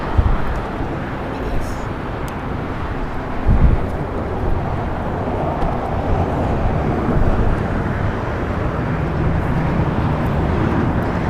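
A Delta Airlines Airbus A321 jet departs LAX, and its broad, steady roar of engine noise holds throughout with no break. The sound is loud and continuous, with a brief low thump near the middle.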